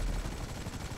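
Rapid cannon fire in a video game, aimed at a helicopter in the air: a dense, continuous, loud burst of overlapping shots with no pauses.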